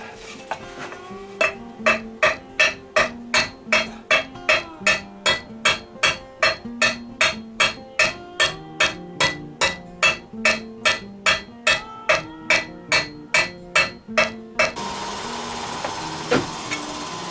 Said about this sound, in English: Allow me to punch that back without flattening everything else around it